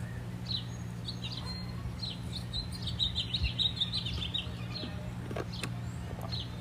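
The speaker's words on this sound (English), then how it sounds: "I'm going to try to just capture the birds for a few minutes" Several birds chirp and tweet outdoors in quick, scattered calls over a low steady hum. No one speaks.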